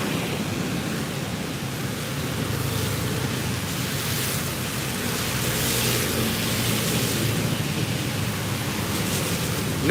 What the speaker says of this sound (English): Yeah, rainy Thursday.